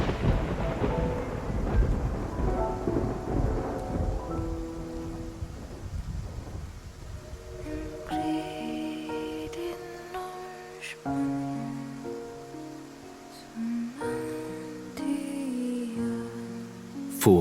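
A thunderstorm with rain at sea in the Love and Deepspace video game: heavy rumbling thunder and rushing rain dominate at first, then give way to a mix of lighter storm noise and music.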